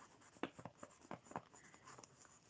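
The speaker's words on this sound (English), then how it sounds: "Mini, hang on, let me write that down" Pen scratching across paper, a series of short strokes and scribbles close to the microphone, quiet and alone.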